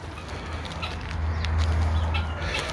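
A free-range Tokat chicken clucking softly nearby amid outdoor ambience, with a low steady hum and a few faint chirps.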